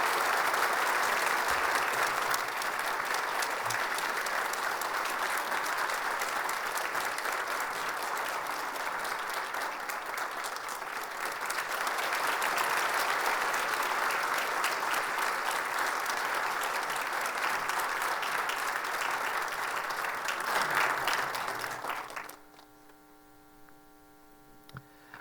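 A church congregation applauds loudly and steadily for about twenty-two seconds during a Sunday service, in two long swells, before the clapping cuts off into a quiet room with a low electrical hum.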